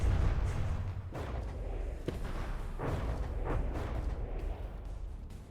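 Torpedo hits and explosions in the From the Depths naval combat game, a dense, continuous rumble of booming detonations with several sharper blasts breaking through, loud and close, with no one talking.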